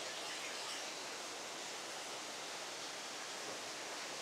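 A waterfall at Marudumalli in a forest area of Andhra Pradesh, water falling from above as a steady, even broadband roar, faint and distant with no voices.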